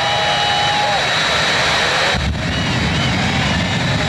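Jet dragster engine at a 1981 drag race at Orange County International Raceway, a loud, unbroken roar with a whining tone that dips briefly midway, while an announcer talks over it.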